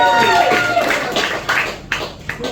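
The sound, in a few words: audience applause for Stuart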